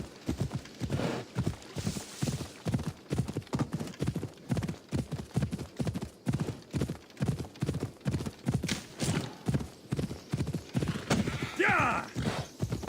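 A horse gallops in Assassin's Creed Odyssey, its hooves striking in a rapid, even clip-clop rhythm close by. A whinny rises near the end.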